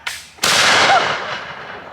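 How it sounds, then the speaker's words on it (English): A single musket fired outdoors at a Revolutionary War living-history camp, with a faint click and then a loud, sharp blast that rolls off into a long echoing tail. "Smoke and noise from one musket."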